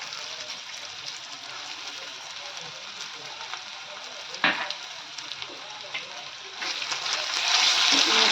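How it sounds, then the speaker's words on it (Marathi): Ground masala paste fries with browned onions in a pan, giving a steady close sizzle with a brief stirring clatter midway and a louder, hissing surge toward the end, while someone talks over it. "कांदा आता लालसर झाला आता त्याच्यामध्ये आपण वाटप टाकून घेऊया"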